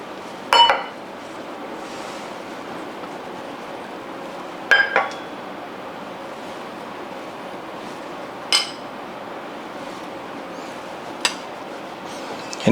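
Dry muffin ingredients including baking soda and salt being mixed in a mixing bowl: a soft steady scraping bed broken by a few sharp clinks of utensil against the bowl.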